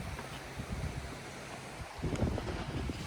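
Warm wind gusts across a microphone beside the River Wharf at Otley near a weir, a low rumbling buffet that swells and eases, rising again in the second half, with no voices.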